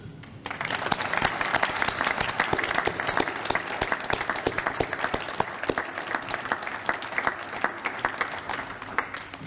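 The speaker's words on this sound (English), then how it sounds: "can we just have a round of applause for the funders, partners, and all the team" Sustained applause from a sizable crowd at speeches marking a building restoration's completion, steady dense clapping that continues loudly for nearly ten seconds.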